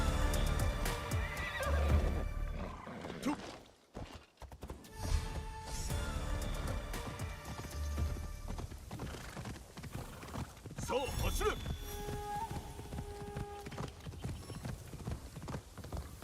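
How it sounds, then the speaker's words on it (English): Horse hooves clip-clopping steadily with a neigh, from the video game Assassin's Creed Shadows, set among dense in-game ambience and effects over about sixteen seconds. "hop on this horse"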